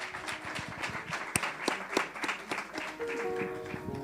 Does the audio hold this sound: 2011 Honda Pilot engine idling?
no